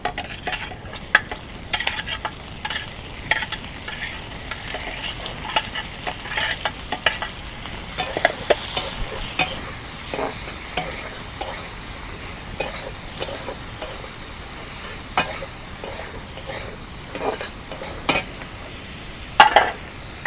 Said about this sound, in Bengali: এই দুইটা আমি একসাথে কষে নেব।